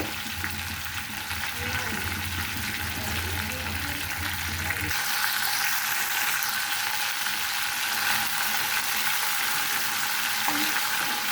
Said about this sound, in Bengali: মাছটা উল্টিয়ে নিয়েছি, অপর দিকটা আমি এভাবেই ভেজে নেব